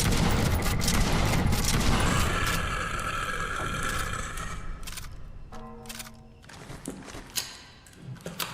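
A loud, dense burst of video game shotgun fire fills the first seconds, then fades into scattered thuds and clicks.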